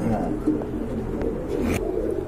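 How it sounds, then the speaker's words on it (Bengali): Pigeons for sale at a pigeon market coo softly and low beneath a busy background of crowd noise and nearby talk. "বন্ধুরা দেখেন কত বড় কবুতর"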